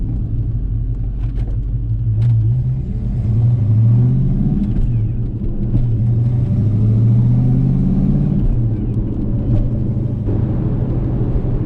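A Foxbody Mustang V8 with Holley Terminator X fuel injection runs with throttle blips, a loud close low rumble that swells and falls as the revs rise and settle, with no talk over it.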